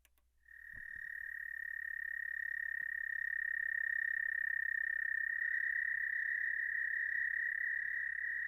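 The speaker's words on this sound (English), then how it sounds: "how many different kinds of frogs and or toads do you hear calling?" Recorded frog and toad calls form a steady, loud, continuous trill that runs almost the whole way through, with a few faint clicks near the start and no voices.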